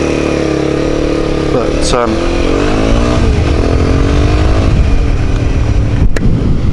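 A Honda CBR250R motorcycle engine runs steadily and loud throughout, its harmonic drone shifting pitch slightly as revs change, with someone talking over it.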